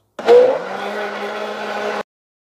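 A blender mixing coconut cake batter as wheat flour is added whirs steadily for about two seconds, a constant motor drone with a brief rising whine at the start, then cuts off abruptly.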